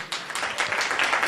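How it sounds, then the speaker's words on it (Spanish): Congregation at a church service clapping for the Lord, a dense wash of many hands building and swelling steadily over a short stretch. "Le podemos dar un aplauso al Señor."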